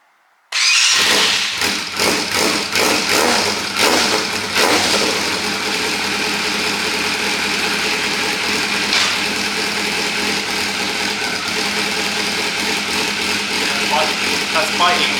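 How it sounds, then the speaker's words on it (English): A Yamaha Fazer motorcycle, just fitted with a new clutch, fires up after a short crank and settles into a loud, steady idle close by, the engine note running on unbroken. "Okay, I'm going to give it a start and see how it's doing."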